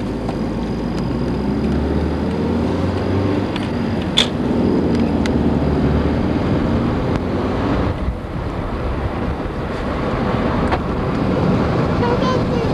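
A car drives along a residential street in Granite Bay, California, its steady road and engine rumble close and continuous, with wind buffeting the microphone and a brief sharp knock partway through.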